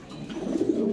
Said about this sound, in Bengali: এটা রেসার কবুতর।